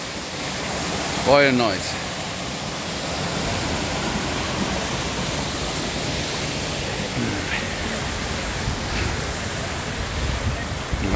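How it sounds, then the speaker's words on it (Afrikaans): Steady rushing water from a waterfall below Clarence Drive near Gordons Bay, a loud, continuous broadband roar with some wind buffeting, while people briefly talk over it. "Dit is 'n waterval hier onder Clarence Drive."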